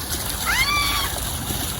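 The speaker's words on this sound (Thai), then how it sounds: "โอ้โหนี่เป็นน้ำตก" Waterfall water pouring in a steady, broad rush that fills the whole clip, with a brief rising whistle-like sound near the middle.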